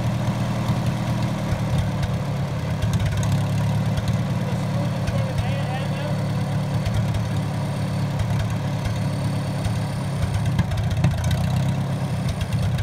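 A Super M moped engine idles steadily and close up, a continuous rough mechanical drone that holds at an even level throughout.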